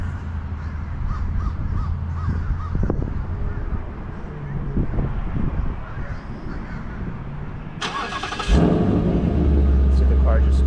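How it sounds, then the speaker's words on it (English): A Ford car engine, started remotely by phone app, cranks and catches near the end, then settles into a steady low idle, with people talking and birds cawing before it. "See, the car just started. The vehicle started."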